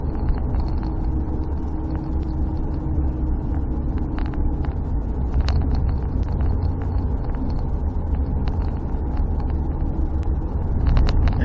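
Dodge Dakota pickup driven along a road after a rack and pinion installation and alignment, heard from inside the cab as a steady low engine and road drone with light rattles and clicks, no talking.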